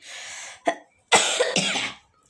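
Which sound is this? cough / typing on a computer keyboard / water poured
cough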